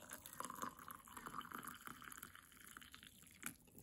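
Freshly boiled water is poured over dried calendula flowers in a container to steep, making a soft, faint, continuous trickle and gurgle close by that tapers off toward the end.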